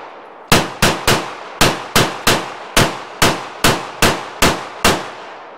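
Twelve sharp pistol shots from a Walther PDP firing Phoenix ammunition ring out at an outdoor range, spaced in quick uneven bursts, each a loud crack with a short fading tail.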